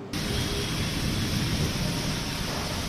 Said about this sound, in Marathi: विजांच्या कडकडाटासह सुमारे तासभर हा पाऊस पडत होता.